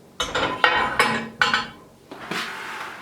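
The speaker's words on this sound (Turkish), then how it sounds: "Karıştırma kabımı aldım." Several clanks and knocks of a bowl or pan being picked up and set down close by, about five sharp metallic hits in uneven succession.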